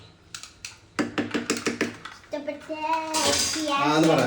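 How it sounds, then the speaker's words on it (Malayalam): Jackfruit payasam stirred in a metal pot, a spoon scraping and clinking against the sides in a quick run of close, repeated knocks before a sizzling, bubbling wash takes over. "ഇനി ഒന്ന് ഇളക്കുക"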